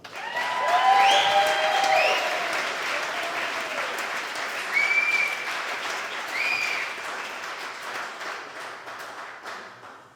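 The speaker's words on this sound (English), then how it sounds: "So let's have a round of applause for our Philip." An audience applauds for Philip at a live event, sustained clapping with scattered whistles and cheers swelling early, holding steady and slowly tapering over ten seconds.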